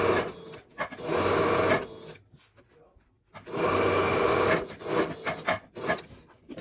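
Sewing machine stitching fabric for a face mask, running in two long, steady whirring bursts with a quiet pause between, followed by a shorter uneven stretch of stitching.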